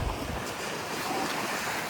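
Sea waves surge against the shore at Bekal Fort under strong wind, a continuous roaring wash with heavy wind buffeting the microphone, loud and close.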